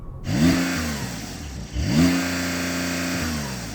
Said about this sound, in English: Let's have a listen to that Porsche. That's got a soft limiter, I know it has, but it sounds really rubbish.